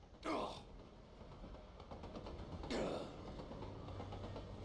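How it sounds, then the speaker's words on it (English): A train in the Borderlands 2 video game creaks and groans past with metallic mechanical noise, two louder swells over a steady rumbling bed. "Gotta listen for the train."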